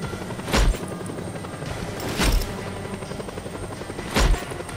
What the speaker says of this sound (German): Der Helikopter macht uns fertig.